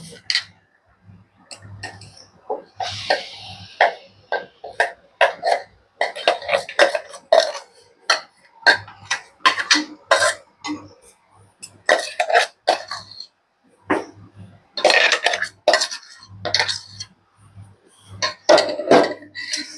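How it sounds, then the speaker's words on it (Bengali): Thick mango paste cooked with coconut water in a pan, stirred close up with irregular wet, gloopy scrapes and soft knocks that come in uneven bursts with short pauses. "এবার এটাকে নেড়ে চেড়ে রান্না করতে হবে"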